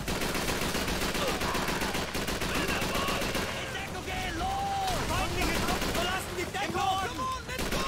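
Dense, rapid bursts of automatic gunfire from Call of Duty 3 played on an Xbox Series X, with repeated shots rattling close and loud throughout, under someone talking.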